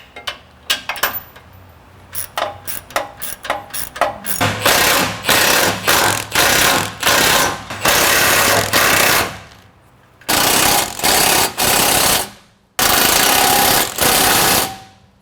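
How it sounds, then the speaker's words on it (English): Ratchet with a long extension working bolts on a Jeep EVO MFG armor bumper step, close and loud: rapid clicking bursts early, then a series of dense, sustained mechanical runs separated by short pauses. "We're going to go ahead and use a ratchet with a long extension for the outer bolts."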